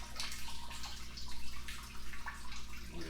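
Blueberry wine draining from a squeezed brewing bag, a steady close trickle and patter of liquid with small drips over a low constant hum.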